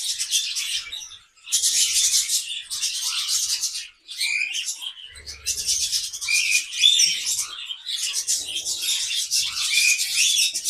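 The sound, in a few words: budgies chirping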